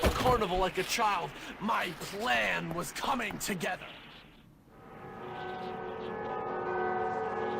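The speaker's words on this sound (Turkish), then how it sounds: "Burada da bir sürü çan var arkadaşlar." Bells ring with a sustained, shimmering metallic tone in the video game Bully, rising after a stretch of someone talking and continuing steadily to the end.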